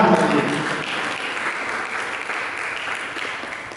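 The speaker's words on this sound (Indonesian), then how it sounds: "Mari kita berikan tepuk tangan." Applause from a church congregation during an Indonesian sermon, a dense steady clatter of many hands that starts strong and slowly thins, with no voices over it.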